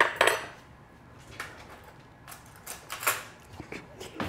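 A metal spoon clinks and scrapes against a dish of Brussels sprouts with pomegranate and walnuts, a few sharp separate taps spread over a few seconds, close and fairly quiet.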